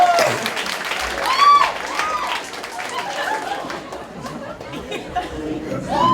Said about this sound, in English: Give it up for Ethan Fuirst